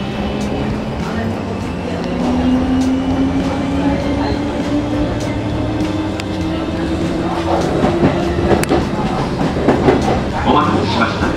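A Kintetsu express train bound for Gose pulls away on a branch-line through service, its motor whine climbing steadily in pitch over a close, continuous rumble, with scattered clicks and clatter from the cars.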